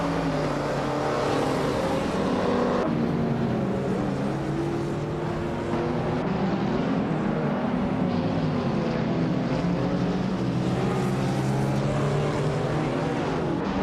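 Race car engines drone steadily in a racing video game, modern street cars on track, a continuous loud whine with shifting pitch as engines rev and shift, no talking over it.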